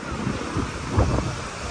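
Surf rolling in and steady wind noise on the microphone at Om Beach in Gokarna, a continuous rushing wash with a slightly stronger swell near the middle and no talk.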